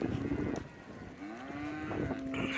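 Calves moo in pens, a clear low drawn-out bellow rising and holding at close range, with steady rustling farmyard noise underneath.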